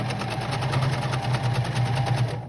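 Domestic sewing machine stitching appliqué fabric, a steady mid-pitched motor hum with rapid needle chatter running continuously and close by.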